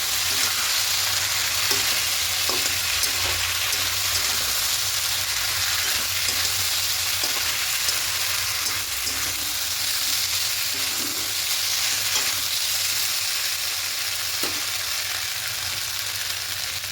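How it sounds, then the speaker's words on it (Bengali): A paste of masala spices fries and is stirred in a pan for Bengali shukto, a loud continuous sizzle with occasional soft scrapes of the spoon throughout. "এই মশলাটা দিয়ে দেবো। খুব ভালো করে মিশিয়ে নেব।"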